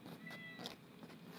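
A single short cat meow, faint and slightly distant, over low background noise in a home setting.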